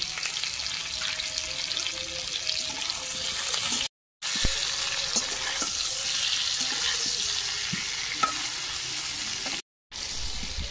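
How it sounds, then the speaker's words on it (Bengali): Potato pieces fry in oil with salt and turmeric powder, giving a steady, close crackling sizzle that fills the whole stretch. There are two brief silent breaks and occasional faint clinks. "আলু ভাজা হয়ে গেছে, তুলে নেব।"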